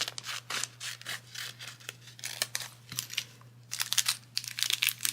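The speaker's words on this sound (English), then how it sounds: "we could just snip it off here" Scissors snip through a plastic craft bag, giving a run of close crinkling cuts and rustles against a steady low hum, with no voices.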